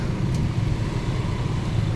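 Heavy long-weekend road traffic rumbles around a motorcycle rider in the Philippines, with a constant low engine drone and passing vehicles. The noise stays steady and close throughout, with a faint brief squeak near the start.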